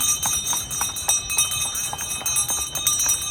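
A horse pulling a ride along a road in Pattaya, Thailand, clip-clops in a steady trotting rhythm, with jingling bells and road noise around it.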